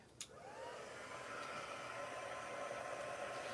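A hair dryer switches on with a faint click and then blows steadily while drying a paper craft journal page. It is a soft, even whir with a whine that settles quickly and continues without pause.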